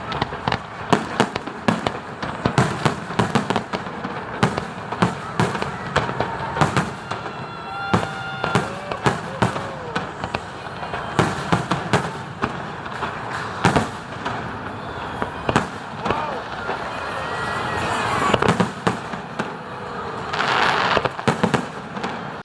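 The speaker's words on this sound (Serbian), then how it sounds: "spektakularnim 6-minutnim vatrometom koji kao takav prvi put viđen u Crnoj Gori" A six-minute New Year's Eve fireworks display over Budva, Montenegro, with dense rapid bangs and crackling bursts continuing loudly, with occasional whistles rising between the explosions.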